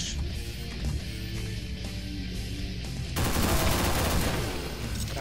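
Rapid rifle fire in the Doom mod Project Brutality, a loud continuous burst of shots layered over game ambience and growing denser and harsher partway through, with no voices.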